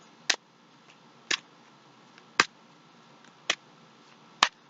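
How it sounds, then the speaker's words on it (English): Tarot cards being shuffled during a reading: five sharp, evenly spaced riffle snaps about a second apart, close and fairly crisp over a quiet background with no talking. "I'm going to shuffle your cards here."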